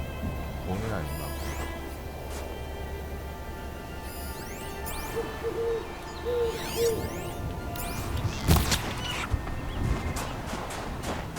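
In the game Horizon Zero Dawn, an owl gives a few soft hoots amid layered ambient game sounds and music, with a person talking throughout.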